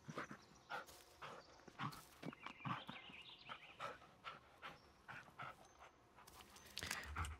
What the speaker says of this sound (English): I will still pet the dog